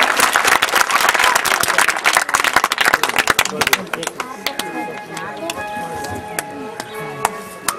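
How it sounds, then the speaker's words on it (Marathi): An audience at a felicitation ceremony breaks into loud, dense applause, which thins into scattered individual claps after a few seconds while a voice speaks over the tail. "या सत्काराला आपण जोरदार टाळ्या वाजवून प्रतिसाद देऊया"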